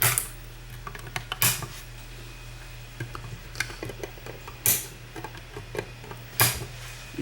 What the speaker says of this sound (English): we'll clip our leads off here.